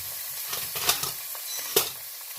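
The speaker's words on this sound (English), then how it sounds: "I just want to sear them a little bit. This pan likes the heat, so I turn it down a little bit." Scallops sear in a hot pan on a turned-down burner, giving a steady, even sizzle with a few sharper pops or clinks of cookware. No voices are heard.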